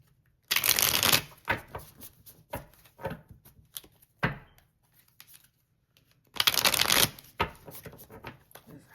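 Tarot cards are shuffled close by, two long riffling bursts framing a series of softer taps, shuffles and card snaps, crisp and fairly loud in a quiet room.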